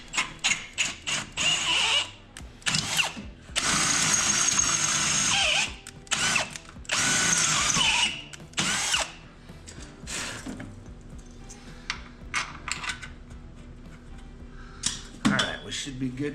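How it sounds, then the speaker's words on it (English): A power drill bores out a threaded hole in metal during a sand rail buggy build, whining in several loud bursts of a few seconds each between shorter clicks and handling noise, close up, with brief talk in the gaps. "I gotta drill one hole out, so it's got some threads in it"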